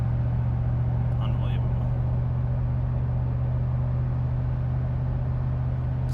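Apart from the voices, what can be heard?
Lexus GX470 V8 exhaust with muffler delete, cruising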